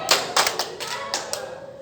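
A few sharp hand claps from women at a mosque study session, spaced irregularly and fairly close, over a quiet room.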